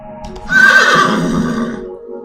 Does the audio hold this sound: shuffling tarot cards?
no